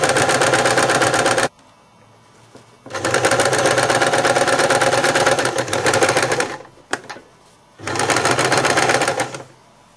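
A domestic sewing machine stitching a pillowcase, its loud rapid needle chatter running in three long bursts with short quiet pauses and a few clicks between them, with no one talking.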